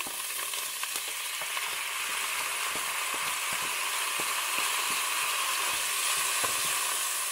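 Rice toasting in leftover oil in a kitchen pan gives a steady, close sizzle with faint crackles and occasional stirring clicks throughout, with no voices.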